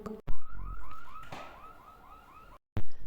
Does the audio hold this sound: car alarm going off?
yes